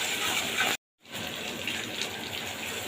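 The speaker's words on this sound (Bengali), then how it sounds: "মিক্সির বাটি দিয়ে একটু জল দিয়ে দিলাম।" Water poured from a mixer jar into cooking onion-egg masala makes a steady rushing gush close by, broken by a brief gap of silence before the flow resumes, with no talking.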